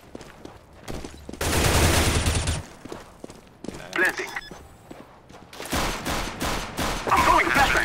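AK rifle fire in Counter-Strike: Global Offensive, loud rapid bursts and single shots in several clusters with footsteps and thuds between them, and a player speaking.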